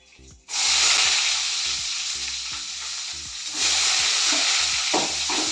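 Chopped onions hit hot oil in a pan for soya chunks fried rice and sizzle loudly and steadily up close, with a slight swell partway through and faint clinks underneath.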